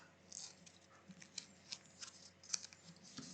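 Scissors snipping through folded paper while a heart shape is cut out, a series of soft, quiet crisp cuts and rustles at close range with no talking.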